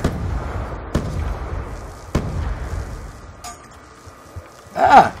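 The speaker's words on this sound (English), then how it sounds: "Throwing grenades" Grenade blasts in the Call of Duty zombies map Mob of the Dead, three sharp booms spaced about a second apart over a low rumble, followed by a brighter burst near the end.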